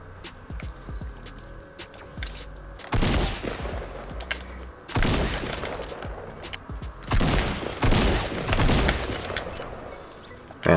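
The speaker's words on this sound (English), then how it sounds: "I'm crossbowing, though. I'm sniping." Rapid bursts of gunfire from a crossbow and sniper rifle in a competitive Fortnite match, several loud volleys separated by brief lulls.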